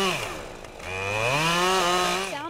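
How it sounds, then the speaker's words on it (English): Chainsaws cutting through storm-fallen, uprooted trees during cleanup, a loud sustained engine whine that rises and bends in pitch as the saw bites into wood, close and continuous with no talking. "Of chainsaws rang out all day long."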